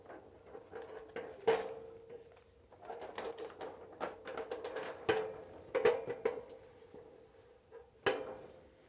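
Several sharp metallic clacks and clicks as the hinged metal barn doors on a film light are adjusted, irregular and close by, over a faint steady hum.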